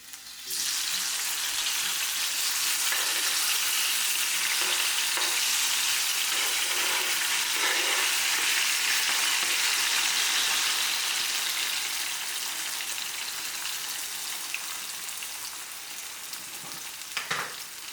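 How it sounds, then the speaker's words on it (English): Tomato and green chili drop into hot oil for eggs with tomato, setting off a loud, steady, close sizzle with a few soft stirring knocks, quieting slightly toward the end. "So now we will add our tomato and green chili."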